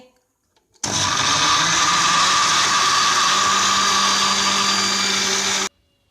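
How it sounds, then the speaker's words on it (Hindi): A kitchen blender grinds banana, sugar and about one and a half glasses of milk for a banana shake: a loud, steady whirring roar switches on abruptly, runs about five seconds, then cuts off sharply. "अब इसे ग्राइंड करेंगे"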